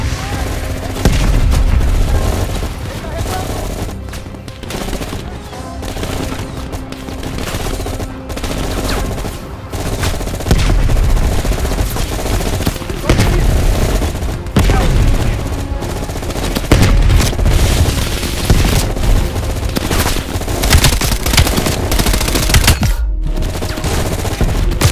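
Rapid M16 rifle fire bursts from Call of Duty Black Ops Cold War, loud and nearly continuous across the clip, mixed with explosions and game effects, with a voice heard faintly beneath.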